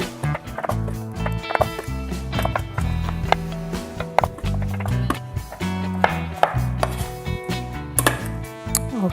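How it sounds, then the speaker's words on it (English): A knife roughly chops pears on a cutting board in a home kitchen, making a quick, steady run of close thuds over continuous background music. "we're just gonna roughly cut these because we're throwing these into the food processor anyway"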